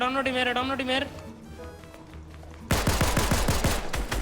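Gunfire in the Fortnite video game: after a stretch of speech, a dense burst of rapid automatic shots erupts loudly for the final second and a half, with game background sounds underneath.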